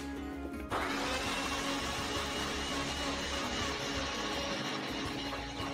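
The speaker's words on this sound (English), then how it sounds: "Let's blend this now until it turns into a garlic and egg juice." A kitchen blender starts up and whirs steadily at high speed while blending garlic and eggs, a loud, continuous motor roar right up close.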